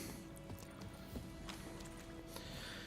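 Horse hooves clip-clopping at a steady trot along a road in The Witcher 3: Wild Hunt, close and continuous beneath a dense game soundscape, with no talking.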